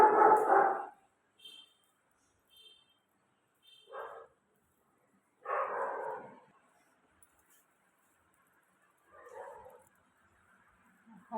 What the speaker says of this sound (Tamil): என்ன பக்கத்து வீட்டு நாய் எப்படி குலைக்குது பாருங்கள்